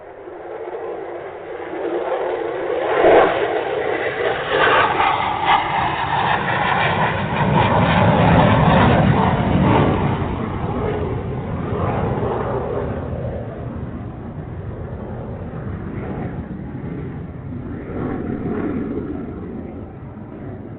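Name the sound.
airplane taking off sound effect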